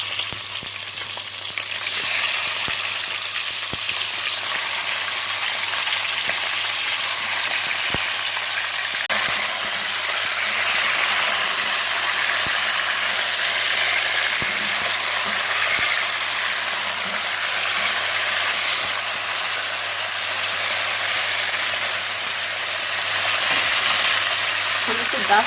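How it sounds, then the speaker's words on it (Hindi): Chicken pieces fry over high heat in hot oil for a Murree-style karahi, giving a steady, loud, continuous sizzle that holds evenly throughout with no voices. "हम इसे 10 मिनट इसी तरह तेज आंच पे भून लेंगे।"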